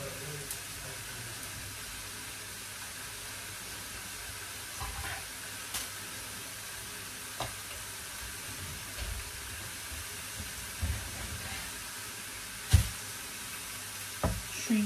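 Meat being sautéed in a pan for kavurma, a steady soft sizzle and hiss running throughout with occasional clinks and stirring knocks, fairly quiet and close, no talking.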